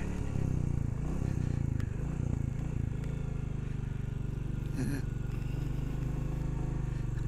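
A Royal Enfield Classic 350 motorcycle in first gear climbing a steep hill, its low engine drone steady and continuous throughout, with faint rattles and road noise over the top and no clear rise in revs.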